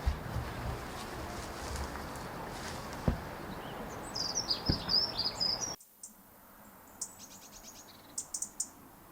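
Thin, high calls of redwing and fieldfare thrushes in winter flocks chirp in short bursts over a steady outdoor marshland background, fairly faint and scattered, some in quick series.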